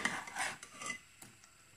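Crushed onion is stirred into aloo gosht in a pot with a few faint, close scraping and rubbing strokes that fade toward the end, with no voices.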